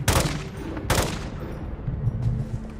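Two sharp, loud bursts of gunfire from Call of Duty: Modern Warfare II crack close by near the start, then trail off into a lower rumbling game background with a faint later shot.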